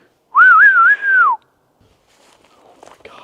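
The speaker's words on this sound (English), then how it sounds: "That was a clear as day whistle." A single clear, loud whistle rings out in dark Appalachian woods, a warbling tone lasting about a second with a brief break, followed by faint rustling and movement in the quiet.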